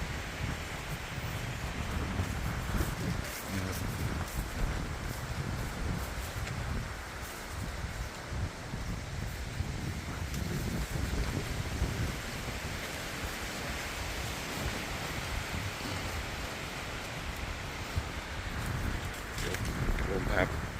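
Wind sweeps across a hillside farm at Khao Yai Thiang, making a continuous broadband rush with rustling gusts and a voice at times underneath.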